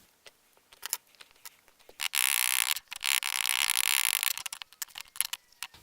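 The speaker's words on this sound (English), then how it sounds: "we're just going to put some spring clamps on it" Spring clamps set onto glued drawer parts: scattered clicks and ratcheting snaps, with a couple of longer bursts of scraping, squeezing noise in the middle, close and without speech.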